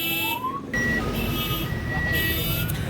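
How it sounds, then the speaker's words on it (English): An alarm goes off loudly and continuously in a Sosua setting, with shrill electronic tones that switch back and forth in a repeating cycle. "There goes that alarm again."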